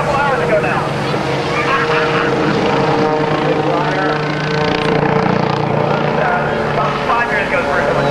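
A helicopter flying aerobatics at an airshow, its rotor and engine roaring continuously up close while people talk over the steady, loud mechanical drone.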